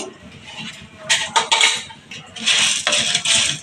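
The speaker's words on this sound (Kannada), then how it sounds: "3 ಸ್ಪೂನ್ ಧನಿಯಾ, 1 ಸ್ಪೂನ್ ಮೆಂತೆ, ಒಂದು 10-15 ಕಾಳು ಮೆಣಸು, 1 ಸ್ಪೂನ್ ಜೀರಿಗೆ ಹಾಕ್ತಿದ್ದೀನಿ" Coriander, fenugreek, peppercorns and cumin seeds are tipped into a pan for Kundapura chicken gravy, making loud rattling, pattering bursts of seeds hitting metal in quick succession at close range.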